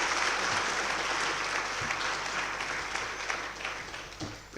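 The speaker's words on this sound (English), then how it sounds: "Another round of applause, ladies and gentlemen." An audience applauds after a public university lecture in a hall. Dense, sustained clapping from a large crowd gradually thins toward the end.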